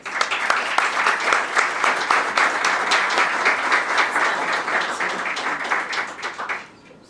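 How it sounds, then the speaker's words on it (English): An audience at a talk on greening American cities breaks into a full, steady round of applause lasting several seconds, fading out at the end. "Let's give her a round of applause."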